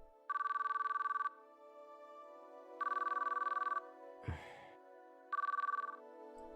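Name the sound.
phone ringing on an outgoing call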